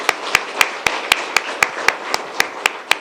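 Rhythmic clapping from an audience at a public forum, about a dozen evenly spaced sharp claps over a soft continuous bed of applause, fairly close and clear.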